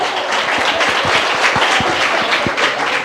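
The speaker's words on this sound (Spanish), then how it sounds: "Aplausos para él." Audience applause in a church talk setting: a steady, dense wash of clapping with sharp individual claps standing out, loud and close, lasting the whole stretch without speech.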